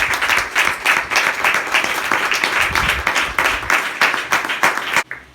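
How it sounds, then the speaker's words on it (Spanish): Church congregation applauding together in a steady, dense wash of clapping that carries for about five seconds before cutting off abruptly. "¿Cómo le da un aplauso a Jesucristo,"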